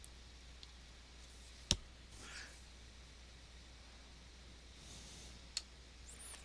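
Two sharp, isolated computer mouse clicks over a faint steady hiss, close and crisp, spaced a few seconds apart, no talking.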